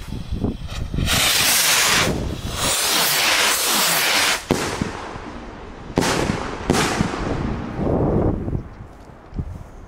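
Large 2.5 inch fireworks at a Dutch New Year's Eve celebration burst loudly and close, several booming explosions in quick succession followed by crackling and hissing tails, with no talk over them.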